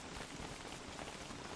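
Rain in the video game Don't Starve Together falls as a steady, soft, even hiss of drops, quiet and continuous with no speech over it.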